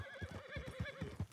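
A horse in the video game Red Dead Online whinnies in a wavering, rising-and-falling call over soft rhythmic hoof thuds, fairly quiet and with no talking.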